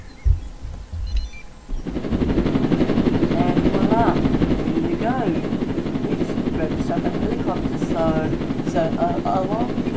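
A helicopter in the Roblox game Jailbreak gives a steady, loud rotor and engine drone after a brief quieter start, with a voice talking over it.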